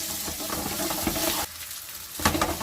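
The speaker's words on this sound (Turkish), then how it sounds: "Yağım kızdı. Şöyle köftelerimi içerisine boşaltacağım." Close, loud sizzling of meatballs frying in hot oil, briefly dropping quieter before crackling back up.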